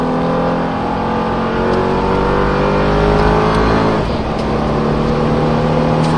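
Mercedes CL55 AMG W215 engine pulling hard from inside the car, a steady loud roar that climbs in pitch, with a brief dip around an upshift before rising again.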